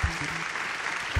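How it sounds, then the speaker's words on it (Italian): Studio audience applause on the Italian TV show Propaganda Live, a short burst of steady clapping framed by two low thumps. "Applauso alla propaganda orchestra devisiana"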